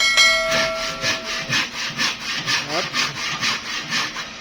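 A hand saw rasps steadily through very hard antipolo wood, about a dozen even back-and-forth strokes, close and loud.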